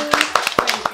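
About eight quick, sharp hand claps in an uneven rhythm, close and fairly loud, as part of a game show celebration for a winner.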